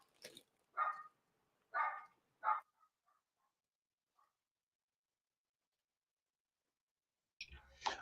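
A dog barks a few times in short, close bursts, then a quiet pause before another bark at the end.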